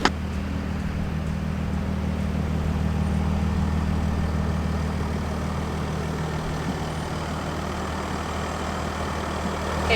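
A camper van engine idles low and steady while crawling at walking pace over a bumpy dirt road near a beach in Baja, a continuous rumble with faint rattles and no voices.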